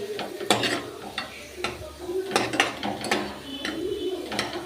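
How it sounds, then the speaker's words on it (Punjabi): A pressure cooker lid is opened after the dal has cooked in a home kitchen, giving a run of sharp metallic clicks, ratcheting clacks and clanks close by, with a faint sizzle in the background and no talking. "ਕੁੱਕਰ ਖੋਲਾਂਗੇ"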